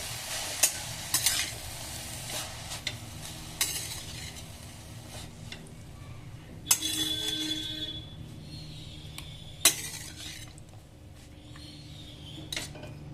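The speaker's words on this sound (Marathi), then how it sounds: "मी आता गॅसची फ्लेम लोच ठेवायची आहे आणि मस्त याला असा परतत राहायचं आहे" Amla (Indian gooseberry) being stirred and sautéed in a pan over a low gas flame for murabba: a steady soft sizzle with scraping strokes and occasional sharp utensil clinks against the pan, no voices.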